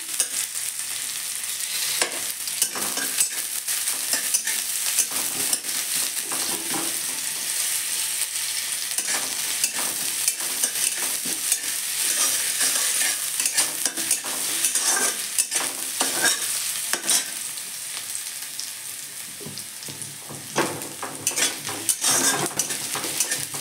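Onion frying in a pan for a home lunch dish, with a steady loud sizzle throughout and repeated scraping, clinking stirs of a utensil against the pan, no voices.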